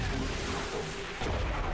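Gunfire from XCOM 2 (War of the Chosen, modded) in a dense, loud burst of combat noise, with booming weapon discharges and a heavier blast near the end.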